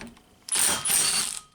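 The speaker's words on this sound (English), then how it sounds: "we'll see if the 3/8 inch Milwaukee can break it free" A Milwaukee 3/8-inch ratchet breaks a bolt free while a power steering pump is removed from a 2003-2007 Honda Accord 2.4L. One loud, roughly second-long burst of mechanical whirring and clicking rises abruptly and stands alone.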